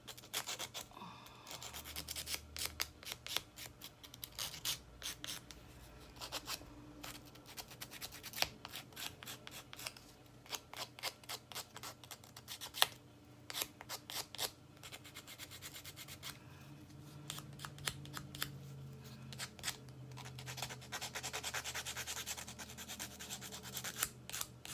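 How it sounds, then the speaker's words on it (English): A paper edge is sanded with a sandpaper-like craft tool to give it a distressed look. Quick, close, scratchy rubbing strokes repeat steadily throughout, with no talking. "So it works like sandpaper to sand that little edge to get it distressed looking."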